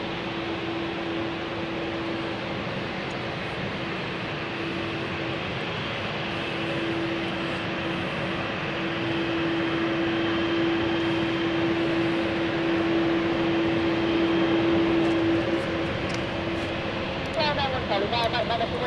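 A British Airways CityFlyer airliner turning on the ground at London City Airport, its engines holding a steady, loud droning hum with a constant tone and broadband roar that swells slightly midway, alone without talk.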